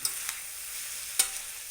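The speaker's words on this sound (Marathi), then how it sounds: "आता ह्याला बी चमचा ह्या चमच्याला असं करून हलवून घ्यायचं बघा हे" Noodles frying in a pan are stirred with a spoon, making a soft, steady sizzle close by with a few sharp scraping clicks as the spoon moves.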